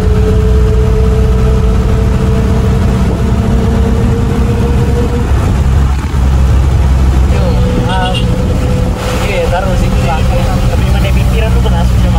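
A front-engined PO Harapan Kasih intercity bus idles in Sulawesi with a loud, steady low engine drone and a constant hum throughout, while someone talks nearby over it.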